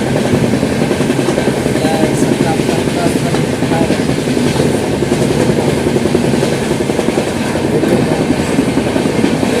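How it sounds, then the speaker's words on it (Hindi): Poorva Express train running at high speed between Varanasi and New Delhi, a loud continuous rumble with steady clickety-clack of wheels on rails, heard from aboard. "काफ़ी तेज ट्रेन चल रही है और सुबह का समय है, स्पीड बहुत ज़्यादा है।"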